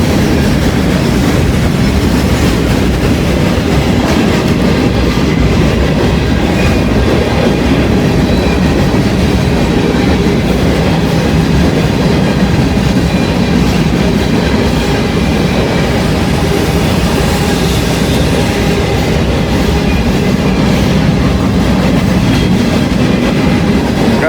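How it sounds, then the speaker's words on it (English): An empty grain train rolls past close by, loud and continuous, its wheels clattering over rail joints in a steady rushing rumble. "Got an empty grain train here."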